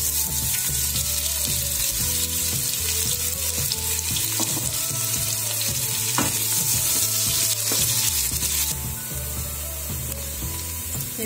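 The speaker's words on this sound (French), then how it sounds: "Et après, je vais ajouter les oignons pour faire revenir." Chopped onions frying in already-hot oil in a pan, giving a loud, continuous close sizzle with occasional stirring clatter and no talking.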